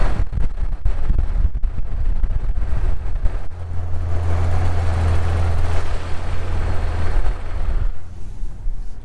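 A truck on Super Swamper tires rolls in neutral through deep snow, a low steady rumble and tire hum close to the microphone with wind noise throughout.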